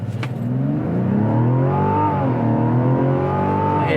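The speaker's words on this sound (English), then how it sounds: "quick little race between the Grand Highlander and the CX-90" Toyota Grand Highlander and Mazda CX-90 three-row SUVs accelerating hard side by side from a standstill: engine notes climb steadily in pitch, with a gear change partway through, loud and close.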